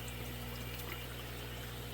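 A 4-way air pump runs steadily in the water of a two-bucket VIVOSUN DWC hydroponic system, giving a constant bubbling, gurgling hum with an even low drone throughout and no speech.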